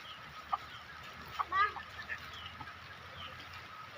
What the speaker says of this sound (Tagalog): papakainin niya na yung manok niya